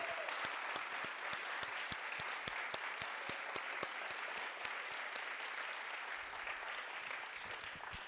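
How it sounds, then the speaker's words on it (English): Audience applause at the close of a Latino poetry anthology celebration evening, honoring the readers; steady, dense clapping from a room full of people, fairly even throughout with no voices over it. "Let's give a round of applause to all of our speakers."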